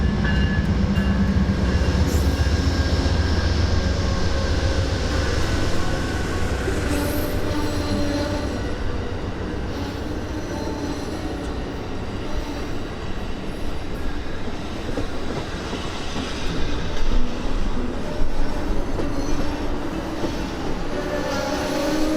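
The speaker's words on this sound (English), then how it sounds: "We caught westbound Amtrak 3 making an on-time arrival at Las Vegas" Westbound Amtrak train 3, a passenger train, rolls into Las Vegas station on the high desert plains, a steady loud rumble of railcars with wheel squeal and clicking over the rails throughout, no voices.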